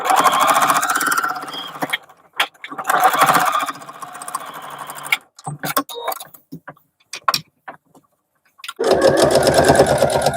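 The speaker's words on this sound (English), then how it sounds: "going to sew some binding on each edge." Sewing machine stitching binding onto the edge of a quilted boxy makeup bag, with loud whirring bursts that start and stop, short clicks and handling noises in the pauses, then a final long run.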